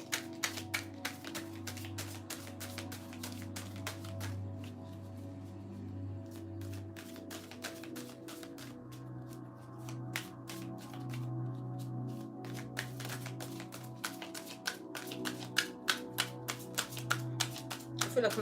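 Tarot cards are shuffled in close, soft bursts of rapid riffling and tapping, quiet and intermittent, with a pause partway through before the crisp card noise resumes.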